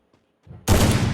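Desert Eagle pistol fired in a video game: a single sharp, loud shot bursts in close after a brief faint lead-in, ringing out to the end.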